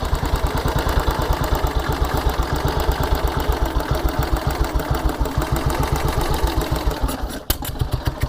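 An old single-cylinder 1944 Ariel W/NG-based trials motorcycle engine idles with a steady, loping putter, loud and close, briefly faltering near the end.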